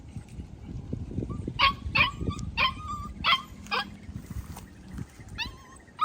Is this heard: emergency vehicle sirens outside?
no